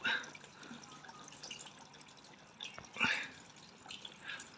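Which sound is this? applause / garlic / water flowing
water flowing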